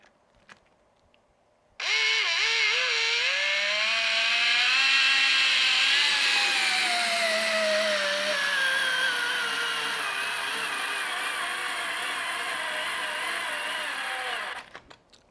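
A FANTTIK NEX L1 PRO electric screwdriver at max power drives a screw into wood with no pre-drilled hole, a loud continuous whining motor that starts abruptly, shifts pitch under load and cuts off after about thirteen seconds.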